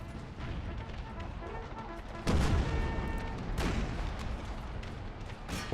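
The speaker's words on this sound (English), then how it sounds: "Horse artillery, canister shot." Horse artillery firing canister shot in the Empire: Total War video game, heard as a couple of heavy booming volleys over a rumbling battlefield din, the first hit sharp and loud, a second a bit later.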